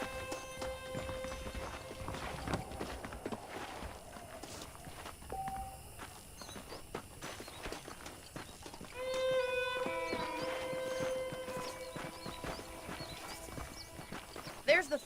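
Horse hooves clip-clop at a steady walking pace in a Western frontier game, moderately close, with faint ambient town sounds and brief tonal chimes around them.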